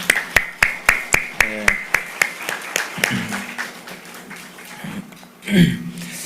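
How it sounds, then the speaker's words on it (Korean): A congregation at a Korean church revival meeting claps in unison, with about a dozen sharp, evenly spaced claps in quick rhythm that then loosen into scattered clapping before a voice speaks. "우리를 만나 주실 하나님께 감사와 영광의 박수 드리겠습니다"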